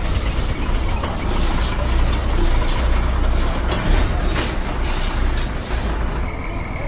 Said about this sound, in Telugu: ఈ బస్సు ఒంగోలు టు విజయవాడ.